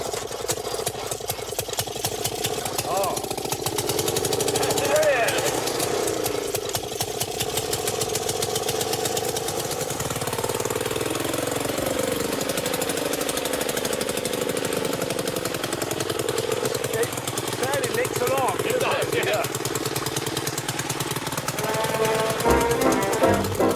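A motorised lawnmower engine runs steadily and loudly for the whole stretch, a rough continuous mechanical drone with shifting pitch as the load changes, with no voices.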